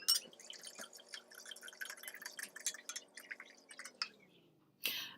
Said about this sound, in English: So we're going to pour the wine.